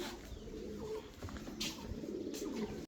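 Fancy pigeons, including a pair of Maltese, coo steadily at close range in a loft, a continuous layered murmur of overlapping calls with a few brief sharper notes and no talk.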